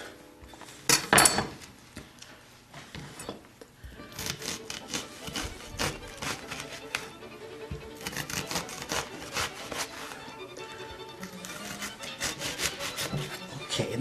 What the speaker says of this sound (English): And then I like to cut them in little pieces